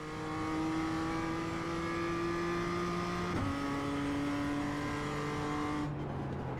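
Race car engine at full throttle in iRacing, a loud steady high-pitched drone rising in pitch, with a quick dip as it shifts up partway through, then climbing again before a second shift near the end.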